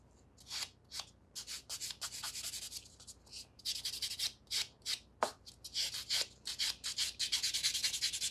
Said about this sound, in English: We can swap to the buffer.